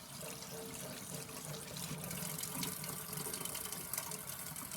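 Shirataki noodles rinsed under a kitchen tap, a steady close rush of running water splashing into a sink with no break, no voices.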